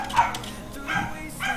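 A dog barks and yips in a few short, close bursts, with a whimpering tone between them, at moderate loudness with no speech.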